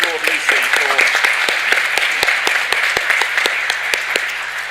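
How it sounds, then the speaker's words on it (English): A roomful of delegates at an intersessional meeting on humanitarian mine action applauds, many hands clapping with sharp individual claps standing out, steady and fairly loud. "the whole room perhaps can applaud Lucy"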